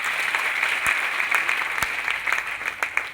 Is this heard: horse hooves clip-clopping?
no